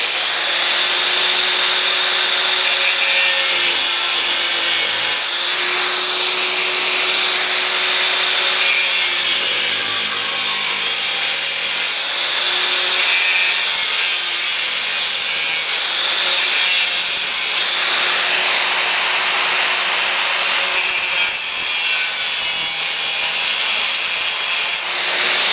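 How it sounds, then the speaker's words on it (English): A cutting wheel slices a thin cleanup cut on a shop-built railing-mounted umbrella stand, a steady loud grinding whine with shifting pitch that pauses briefly and resumes several times, with no voices over it. "that's going to be a real thin cut with the cutting wheel"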